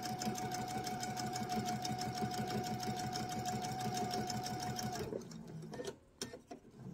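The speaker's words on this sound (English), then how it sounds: "we're going to sew down until we come to the corner again" A sewing machine runs steadily, stitching an eyeglasses case with a fast, even mechanical whir for about five seconds, then stops and leaves only faint handling noises near the end.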